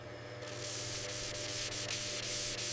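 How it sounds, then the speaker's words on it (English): Turned sheesham wood for a dholak drum shell is sanded after chiseling, giving a steady, close, hissing abrasive rub with faint rhythmic strokes throughout. "Initial sanding removes the rough ridges left by the chisel."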